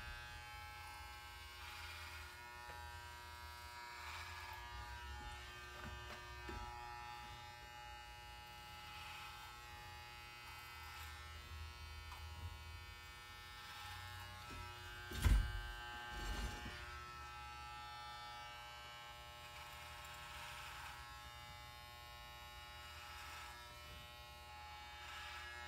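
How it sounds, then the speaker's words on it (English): Electric hair clippers buzz steadily through a clipper-over-comb cut during a barber state board haircut, a constant close hum with a brief louder knock partway through. "I can go ahead and show my clipper over comb work here"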